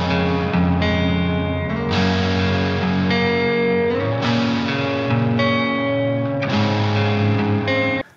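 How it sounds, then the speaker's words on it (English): Ringing electric guitars in a pre-chorus mix, panned moderately left and right rather than hard, sustain loud chords that restrike every couple of seconds with a distorted, effects-laden shimmer, then cut off abruptly at the end. "Okay, so we've got these ringing out guitars in the pre-chorus."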